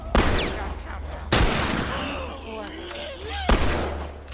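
Gunfire in The Last of Us, three loud sharp shots spaced over a few seconds with echoing tails, amid game noise and chattering sounds.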